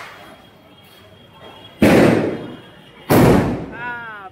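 Firecrackers burst outdoors during Diwali celebrations: two loud, close, sharp bangs about a second apart, each with a decaying crackle, amid quieter background noise and voices.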